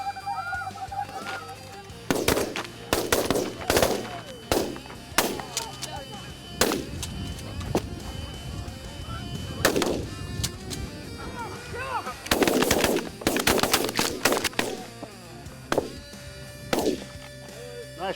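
Shotgun blasts crack out in irregular bursts during a Minnesota goose hunt, some in quick clusters, while geese honk and call in the background and hunters talk between volleys.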